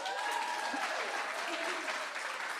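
Steady audience applause for a last-minute musical guest at an expressive art contest celebration, a dense wash of clapping that holds evenly throughout, with faint voices mixed underneath.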